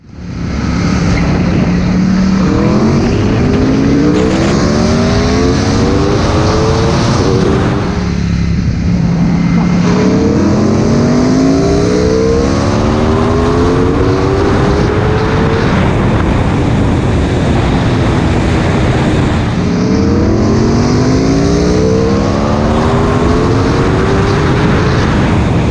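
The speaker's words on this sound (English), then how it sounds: "we did drag race the bikes, and the Panigale is faster in a straight line" Aprilia RSV4 and Ducati Panigale V4S superbikes racing, with loud, continuous engine roar and rising, sweeping gear-change whines repeated in cycles, close and steady with strong wind rush throughout.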